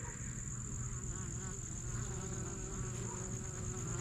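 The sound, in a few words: honey bees of a hive attacking a wax moth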